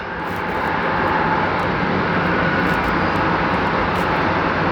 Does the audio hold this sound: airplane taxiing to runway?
yes